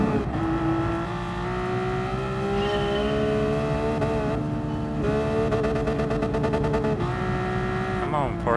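Porsche race car engine in Gran Turismo Sport, a steady high-pitched whine rising and falling through gear changes, loud and continuous, with a person talking over it.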